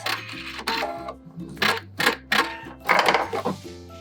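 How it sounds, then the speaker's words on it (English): A sewing machine hems a pair of high-waisted shorts and backstitches at the end. It runs in short, close, stop-and-start bursts of whirring motor and needle clatter. "let's stitch these pants down. Backstitch and cut at the end."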